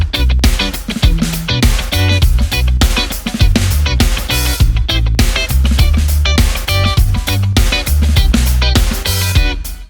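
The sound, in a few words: guitar playing funk chords in G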